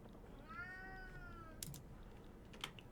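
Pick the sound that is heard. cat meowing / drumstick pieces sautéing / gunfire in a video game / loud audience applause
cat meowing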